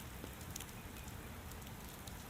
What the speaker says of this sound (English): There is something strangely comforting about rainy afternoons.